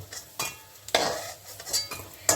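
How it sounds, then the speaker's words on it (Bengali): Fried lentil fritters (bora) lifted out of a pan of hot oil, several separate scrapes and clinks of a utensil against the pan over a faint sizzle, close and moderately loud. "এখন এই বড়াগুলোকে আমি তুলে নিচ্ছি"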